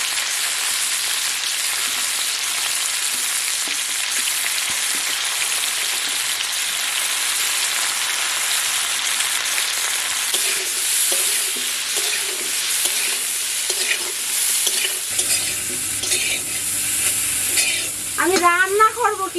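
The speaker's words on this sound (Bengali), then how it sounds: "আমি এখন ফুলকপিগুলো একটু তেলে ভেজে নেব" Cauliflower fries in hot oil with a loud, continuous crackling sizzle and stirring; toward the end faint voices and a higher tonal sound come in under the frying.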